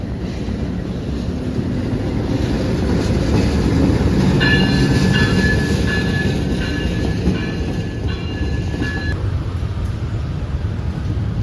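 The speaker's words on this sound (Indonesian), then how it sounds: "memastikan apakah kereta api Serayu 283 dari arah Purwokerto ini double traksi" Serayu 283 passenger train from Purwokerto, hauled by two locomotives, rumbles past close by in a loud steady roar of wheels and cars, with a few high metallic squeals in the middle and wind buffeting the microphone throughout.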